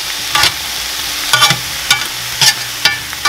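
Tomatoes frying in a pan are turned over and stirred, giving a constant loud sizzle broken by several sharp scraping stirs, with no talk.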